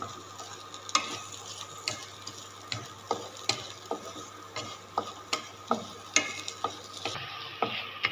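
A spatula scrapes and stirs eggs with bread pieces in a pan, giving regular rhythmic clacks about twice a second over a soft background sizzle, close and fairly quiet.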